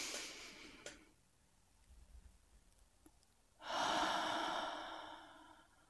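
A person breathes close to the microphone: a short breath at the start, a quiet pause, then a long, drawn-out exhale that slowly fades.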